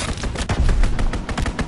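Rapid gunfire from an enemy strafing run in a PS4 war video game, a dense burst of sharp repeated shots and thuds, loud and close for under two seconds.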